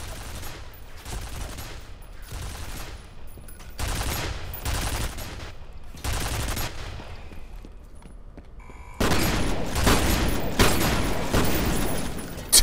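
Sustained automatic turret gunfire from the F.E.A.R. video game, coming in repeated long bursts with short gaps, then a denser, louder volley near the end.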